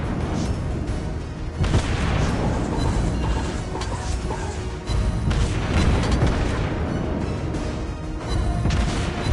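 Naval gunfire from the World of Warships Blitz game, with a destroyer firing on an enemy ship: dense, continuous booms and crashing impacts, loud and layered, with sharper bursts near the start and in the middle.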